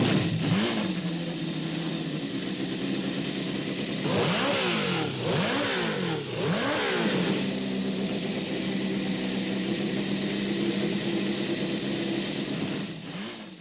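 Racing cars drive around the Monaco street circuit in Monte Carlo, engines droning steadily with several rising and falling revs as cars pass and shift, continuous and loud with no speech.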